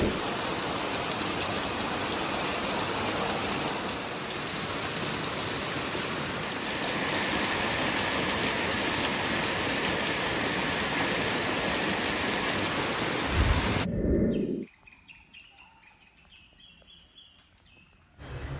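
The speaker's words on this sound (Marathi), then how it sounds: "तेवढ्यातच पावसाच्या सरी ऐकू आल्या" Heavy monsoon rain pours down in a Konkan village as a loud, dense, continuous hiss for about fourteen seconds, then stops abruptly, leaving quieter scattered drips.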